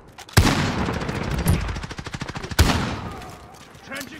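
Rapid automatic gunfire in Call of Duty Modern Warfare, a dense rattling stream of loud close shots with two sharper heavy bursts, continuing steadily under the action.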